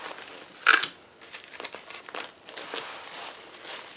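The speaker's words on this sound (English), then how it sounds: "Just taping it down a little bit." Packing tape is pressed down onto a shipping package, a sharp loud crinkle near the start followed by softer scattered crackles and rustles of plastic and cardboard, close and without talk.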